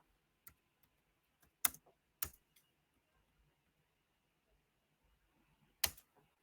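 Sparse keystrokes on a computer keyboard while a Python script is written: a handful of isolated, sharp clicks spaced irregularly over a quiet room, with long pauses between presses.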